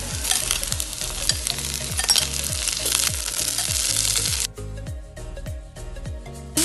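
Cauliflower frying with onions in a pan for a spicy South Indian bhuthi gives a loud steady sizzle, with rhythmic scraping strokes of a spoon stirring through it. The sizzle drops partway through, then continues more softly.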